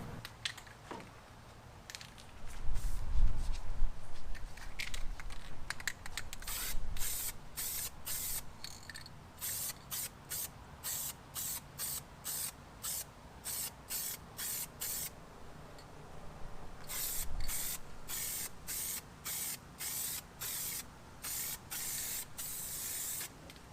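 An aerosol spray can hisses in repeated bursts, short sprays and longer held ones, close up with no voices.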